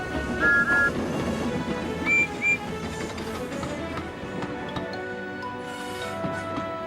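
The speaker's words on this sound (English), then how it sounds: ""Beep, beep," whistled Percy." Two short high toy engine whistle toots sound early in a Thomas and Friends episode, then two more a moment later, over a busy background of music and clatter.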